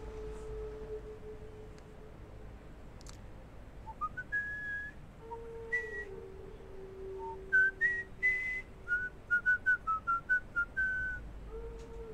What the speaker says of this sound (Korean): 왜 안 불던 휘파람을 부느냐